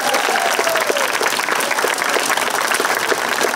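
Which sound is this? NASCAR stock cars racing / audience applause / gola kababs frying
audience applause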